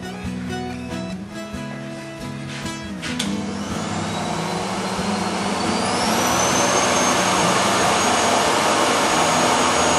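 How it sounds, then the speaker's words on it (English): A vacuum cleaner runs steadily through most of the stretch after a low mechanical hum at the start, its whine rising and holding loud and close in a screen-printing workspace, with no talking. "Vacuum cleaner there."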